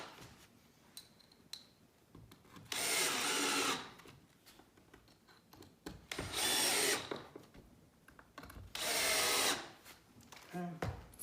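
A power drill drives screws through pre-drilled holes to fasten wooden bench legs to the top, three loud sustained whirring bursts separated by quiet pauses with light handling noise.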